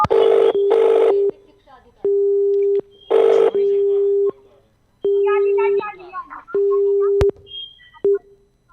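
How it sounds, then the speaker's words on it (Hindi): Repeated phone ringback or dialing tones, long steady beeps at regular intervals, come from a call being placed to a police PCR team during a news report. Brief bursts of dial tones and a faint voice occur between the beeps. "फोन लगाइए जरा।"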